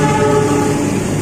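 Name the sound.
train passing by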